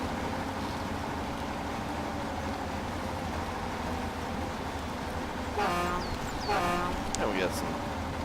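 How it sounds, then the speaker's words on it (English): A truck's air horn in the off-road driving game Spintires sounds in two or three short tonal blasts near the end, over a steady rumbling engine drone. "The air horn."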